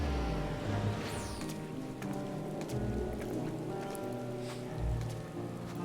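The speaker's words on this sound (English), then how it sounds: "Eating bread in the rain." Rain falls steadily in the video game Final Fantasy XIV, a constant wash of patter alongside faint in-game music and occasional soft effects, with no one talking.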